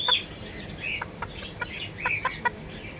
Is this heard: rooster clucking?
yes